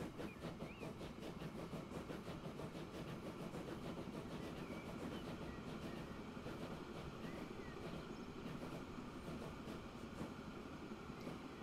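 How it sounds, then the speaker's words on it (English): A large train in the railway game Transport Fever 2 rolls steadily along the rails with a continuous rumble and a faint rhythmic clatter of wheels, holding an even loudness from start to finish with no talk. "We pause, wait for the ginormous train."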